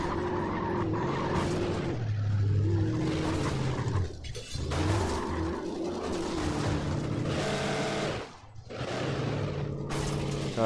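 In the Alan Wake video game, a stuck car's engine revs loudly and continuously while its tires skid and squeal, dipping briefly a few times.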